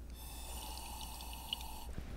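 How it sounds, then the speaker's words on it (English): Air blown through a straw into a cup of water makes a steady, soft hissing blow for nearly two seconds, then stops abruptly, with a faint tick near the end. "I'm going to try and blow a hole in my water"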